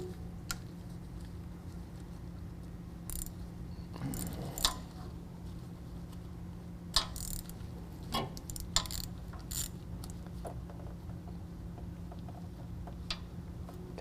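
A 3/8 wrench breaks loose the bleeder screw on the back of a truck brake caliper during a Power Stop Z36 Truck and Tow brake kit install, giving scattered sharp metallic clicks and short ratcheting ticks over a steady low hum, with no talking.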